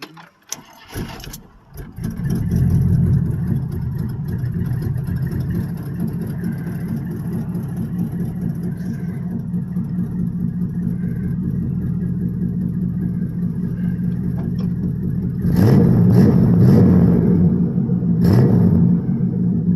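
A car engine cranks and catches after a fuel line repair, then settles into a steady, loud rumbling idle with an exhaust leak, before revving sharply a few times near the end.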